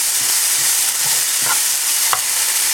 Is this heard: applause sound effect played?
no